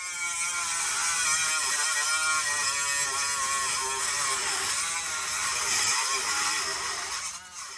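An air-powered grinder cuts a rivet out of a truck's inner frame rail during a drop hanger install, a loud continuous high whine with slight pitch dips as it bites, running nearly the whole time.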